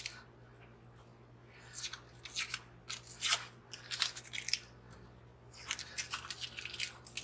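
Marking tape gets pulled off a Buffalo Trace 750 ml bottle during a lamp build, making a series of short, close, crisp ripping and peeling bursts with quiet pauses between, no talking.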